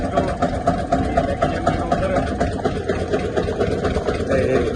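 A tractor engine idles in a steady, continuous low throb with a slight rhythmic pulse, close and fairly loud, running alone.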